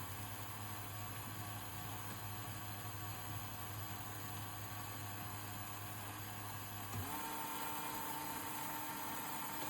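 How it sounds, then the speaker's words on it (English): A small DIY electric motor hums steadily on a boost converter power supply, then its pitch steps up abruptly as the voltage is raised to 9 volts and it keeps whirring faster, faint and close. "you can hear the motor speed has increased"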